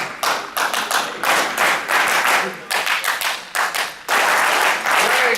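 Crowd at an HCCollege 100 Black Men's event echoing rhythmic clap patterns, close and loud bursts of synchronized claps with short gaps, ending in sustained applause, with some talk mixed in.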